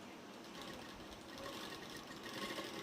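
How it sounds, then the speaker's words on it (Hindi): A sewing machine stitching a salwar runs in a steady, continuous whir, soft and unbroken throughout, with no talking. "पहले मुझे यहाँ तक सिलाई कर लेना है"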